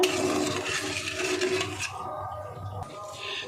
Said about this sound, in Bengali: দেখুন জল ফুটে উঠেছে